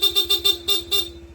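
Stock horn of a Honda ADV160 scooter beeps in a quick series of short, close, loud honks with a steady tone, then fades out.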